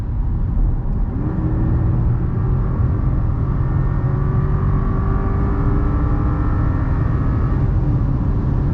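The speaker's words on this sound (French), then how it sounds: "Oh, le bruit du V8, mais extraordinaire." A 2009 Cadillac STS's 4.6-litre V8 revs and roars continuously at close range, its deep rumbling tone rising and holding steady with no talking.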